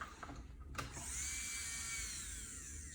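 An electric nail file fitted with a sanding band starts up after a few light clicks, then runs as a steady high-pitched whine at slow speed, close and alone.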